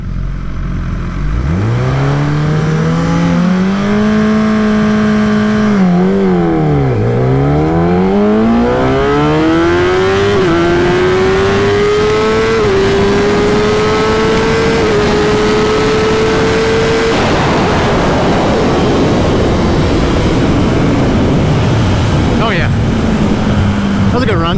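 A Kawasaki ZX10 sport motorcycle launches down a drag strip, its engine screaming up through gears with brief dips at each shift, loud and close before fading away into the distance.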